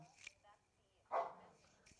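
A dog barks in a home as a cat is nearby, one loud close bark after a few softer yips, with people talking around it.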